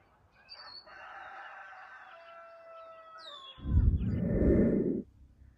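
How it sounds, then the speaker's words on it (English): A rooster crows in the distance, a long drawn-out call, followed by a burst of closer, louder rustling and clucking. "The chickens have been crowing since 4 a.m., telling me to get up."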